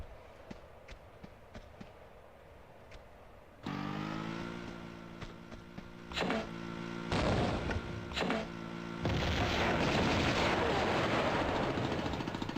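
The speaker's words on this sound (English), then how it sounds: "Let's see if the grenade launcher works on this." Grenade launcher in Tomb Raider II fires repeatedly, each shot a loud burst that rises over an ongoing game rumble and dense, heavy background noise.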